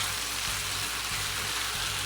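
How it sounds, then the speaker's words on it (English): Beef sizzling in one pan with ginger slices, red pepper and garlic as it is stir-fried over high heat, a constant close, loud hiss with faint low scraping underneath. "add the ginger slice, red pepper, and garlic. Make sure you stir fry it."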